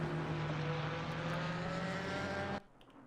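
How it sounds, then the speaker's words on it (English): Ferrari 296 and BMW GT race cars roar through a racing video game, a loud sustained engine drone at high revs that cuts off abruptly near the end. "Cozy Lerner leads the field in the Ferrari 296 as they come out of Adenauer Forest"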